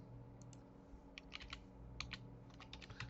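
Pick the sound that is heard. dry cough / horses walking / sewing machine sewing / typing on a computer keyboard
typing on a computer keyboard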